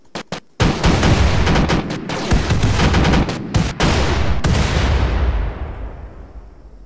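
Turrets in RimWorld open fire in loud, rapid volleys of gunshots and booms that run nearly continuously, then die away into a fading rumble, with no talking.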